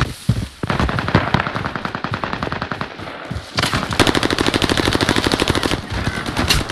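Sustained machine-gun fire in Call of Duty Warzone Pacific on the Caldera map during a Vanguard Resurgence match, loud, close and continuous rapid bursts with a short dip before a heavier stretch of shooting.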